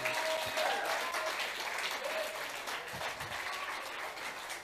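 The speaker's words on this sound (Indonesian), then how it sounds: "Ini tepuk tangan buat yang remaja kita." An audience claps steadily for the teenagers at a church teaching session, a dense, continuous patter of applause at moderate distance that tapers slightly toward the end.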